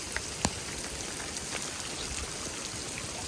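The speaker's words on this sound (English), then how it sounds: "now hail is falling" Hail mixed with rain falling outdoors, a dense steady patter with a few sharper ticks of hard stones hitting a surface.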